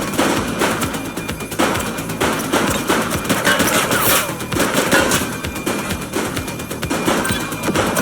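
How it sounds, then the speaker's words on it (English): Rapid bursts of gunfire crack through a shootout in The Precinct video game, repeated shots in quick succession filling the scene at close range with no talk over them. "Shots fired!"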